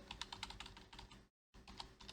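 Fingers type on a computer keyboard in a quick run of soft, clicky keystrokes, faint and close, pausing for a moment before the tapping picks up again.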